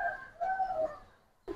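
Young Silver Beji Giribaz pigeons give a brief, soft, throaty coo, a couple of low murmuring notes heard close by with no talk.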